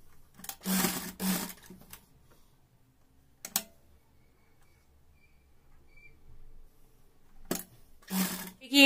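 Sewing machine stitching a newborn baby cap, two short whirring bursts at the start and two more near the end, close and clear, separated by quiet pauses and a single brief click.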